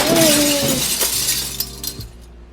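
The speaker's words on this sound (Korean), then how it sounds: "테이블 위에 있던 맥주가 쏟아진 뒤 바닥으로 깨지고 말았다" A beer bottle tips off a bar table and smashes on the floor, giving one loud, close glass shatter followed by a few scattered clinks of settling shards.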